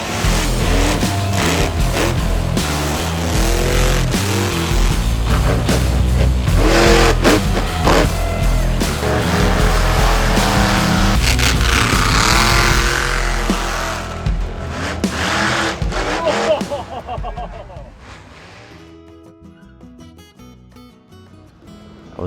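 Monster trucks at a Virginia beach event drive and rev, a loud, dense roar of engines with surging revs that swells through the middle, then fades away, leaving faint, scattered sounds.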